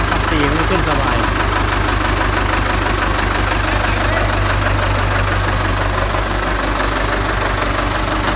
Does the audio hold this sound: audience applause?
no